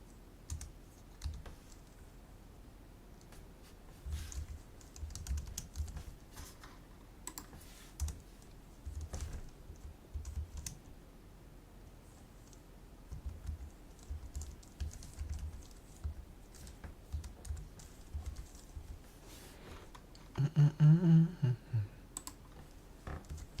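Keys clatter on a computer keyboard in uneven bursts of typing during a coding practice session, close and fairly quiet, with a louder thump near the end and no talking.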